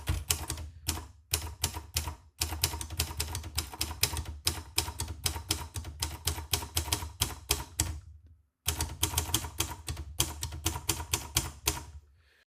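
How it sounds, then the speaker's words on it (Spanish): Rapid mechanical clacking of typewriter keys in bursts, with brief pauses and a couple of longer breaks, loud and close with no voices. "El teclado de mi máquina de escribir."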